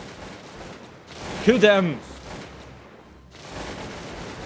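Troops firing in the strategy game Cossacks 2, a burst of crackling musket volleys rising over about a second amid steady battle noise, with a shouting voice layered on top.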